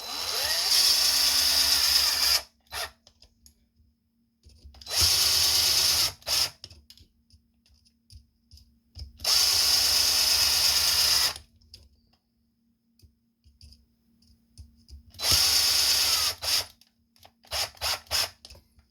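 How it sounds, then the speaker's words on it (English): A power drill whirs in four loud bursts, each a couple of seconds long, driving plastic screws during a Traxxas TRX-4 rear axle replacement, separated by quiet pauses with small clicks and handling noises. "So, using a drill, really handy, but be very careful you don't strip out the screws"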